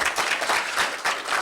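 An audience at an African American summit in San Antonio applauds Renee Watson, a business expert, with dense continuous clapping throughout.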